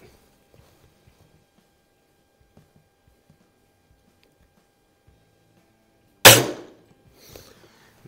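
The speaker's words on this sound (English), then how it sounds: "Shot cycle's pretty quiet." A Diana 34 T06 Classic spring air rifle fires once, a single sharp crack followed by a brief decay and a faint second knock, after a long quiet stretch.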